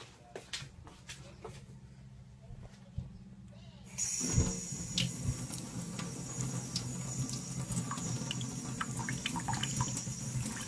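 Tap water splashes into a sink as glass shards found in instant pancit canton noodles are rinsed by hand, the flow starting partway through and running steadily with small clinks and drips, and some faint talking in the background.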